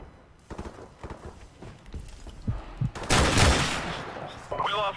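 Gunfire erupts in a 2v2 Gunfight round of a shooter game, with a few scattered shots and then a loud close burst of rapid fire over a busy game soundscape.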